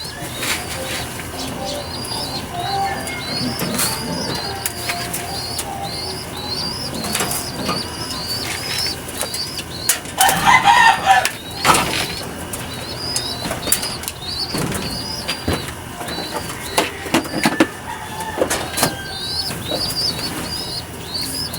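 Pet pigeons being fed early in the morning flap their wings in repeated loud bursts, with soft cooing and chirps close by and no talking.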